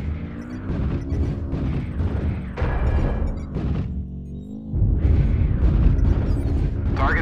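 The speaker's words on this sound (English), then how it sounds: "Artillery strike activated." Artillery strike explosions in a video game roll in as loud, continuous booming rumbles that swell, briefly drop away, then return heavier and sustained.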